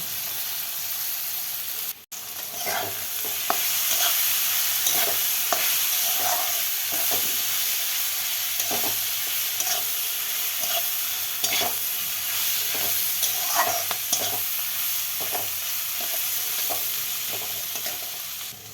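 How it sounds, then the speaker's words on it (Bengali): Jackfruit seed paste with cumin and coriander powder is stirred in a hot pan: a continuous low sizzle with repeated spatula scrapes and taps, after a brief clatter near the start. "জিরা ধনিয়া পাউডার দিয়ে ভালো করে নাড়াচাড়া করে নেব"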